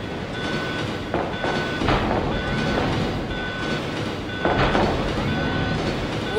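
A train rolls steadily through the survival horror game Resident Evil 2 (1998), a loud continuous rumble with rattling and faint clacking that swells at intervals, with no voices over it.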